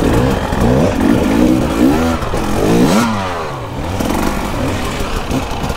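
Dirt bikes, both two-stroke and four-stroke including a 2023 450, rev and climb close by on a hard enduro ride, their engine pitch sweeping up and down loudly and continuously with some clatter and no talking.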